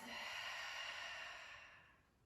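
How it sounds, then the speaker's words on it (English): A long, soft breath pushed out through the mouth during a guided relaxation breathing exercise, a steady airy rush that gently fades over about two seconds, heard alone. "Exhale through the mouth."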